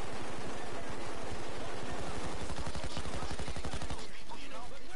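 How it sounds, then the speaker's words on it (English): Rapid automatic gunfire from the video game Payday 2, a dense rattling burst of shots running for about four seconds before thinning into scattered softer blasts, loud and continuous with faint voices underneath. "Oh, they shot my grenade out the air."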